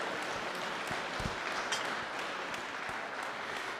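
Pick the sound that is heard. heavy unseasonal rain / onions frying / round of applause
round of applause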